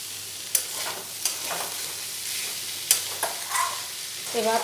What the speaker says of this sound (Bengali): এবারে একটু নাড়াচাড়া করে পেঁয়াজের সাথে মিশিয়ে নিয়েছি, নিয়ে আরও একটু 5 মিনিট ভেজে নেব।